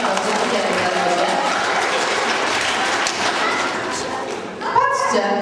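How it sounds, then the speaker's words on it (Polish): An audience applauds a child named Kacper with a dense, steady wash of clapping that lasts throughout, and voices rise briefly near the end. "Brawa dla Kacpra"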